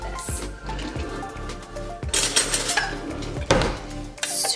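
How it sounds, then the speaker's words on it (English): A utensil scrapes and knocks around a mixing bowl of dog-treat dough made with oats or flour, with sharp clinks and scraping strokes spaced across the clip. "Scrape the sides down."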